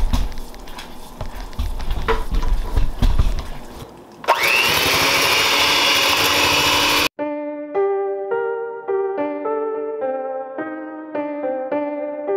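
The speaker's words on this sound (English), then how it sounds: "you're going to be whipping that gelatin with the whisk" A whisk whipping gelatin mixture for homemade Peeps: a rough stirring rustle that becomes a loud, steady whirring churn for a few seconds, then cuts off abruptly into tonal music.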